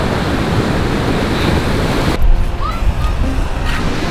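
Sea waves at high tide along the Asturias coast, a loud continuous surf roar with wind buffeting the microphone, easing partway through as individual wash sounds come through.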